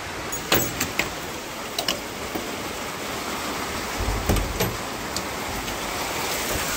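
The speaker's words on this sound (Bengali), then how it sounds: "যা জোরে বৃষ্টি হচ্ছে, আর তার মধ্যে হচ্ছে হাওয়া দিচ্ছে" Heavy rain with gusting wind around a house, a dense steady wash of noise with a few sharper knocks and rattles, no one speaking.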